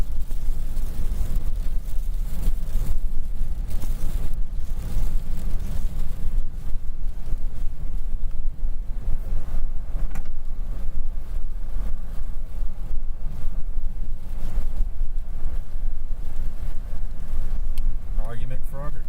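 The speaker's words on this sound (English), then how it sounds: "Still some gusty winds here, but definitely nothing like it was earlier." Gusty winds from Hurricane Nicholas buffet the microphone in Matagorda, Texas, a loud, continuous rushing roar with surging gusts, and a voice speaks over it at times.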